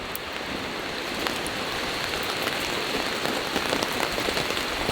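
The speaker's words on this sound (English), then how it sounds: "it's going to be pouring here in a few minutes" Heavy rain pours onto a tarp shelter in a steady dense hiss, with scattered drops pattering close by and no voices.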